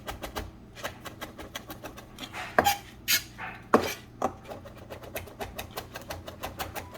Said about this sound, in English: we're just going to get a nice mince by rocking your knife back and forth